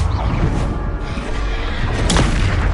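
Blasting spell explosion from Hogwarts Legacy, the Bombarda curse landing as a heavy boom with a sharp crack near the end, amid constant low rumble of magical combat.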